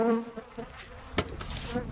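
Steady honeybee buzzing at an open hive, droning close by, with a brief sharper rise partway through.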